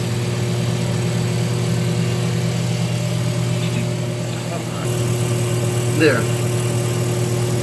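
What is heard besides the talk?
GE washer motor spinning while belt does not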